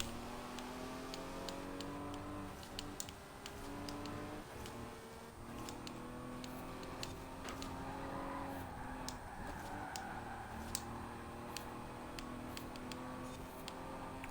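A 2003 Nissan Fairlady Z races in Forza, its engine droning steadily with rising and falling pitch as it shifts, with a regular ticking and occasional brief tire noise, sustained and fairly quiet.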